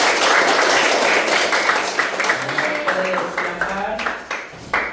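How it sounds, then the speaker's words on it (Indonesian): An audience in an Islamic boarding school classroom applauding, a burst of dense clapping that thins and fades over a few seconds, mixed with voices. "Tepuk tangan yang meriah."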